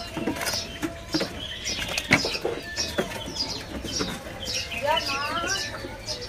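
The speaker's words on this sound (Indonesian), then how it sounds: "Di sini ada burung petak kembang ya." Caged petak kembang songbirds at a bird market give short warbling and chirping calls, with a rising run of quick whistled notes near the end, mixed with background market noise.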